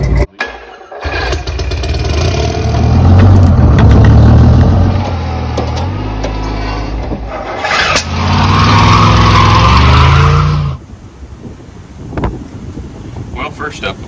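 An old shop truck cranks and its engine fires up, then revs and runs loudly in two long surges before dropping back to a lower idle with wind buffeting the microphone nearby.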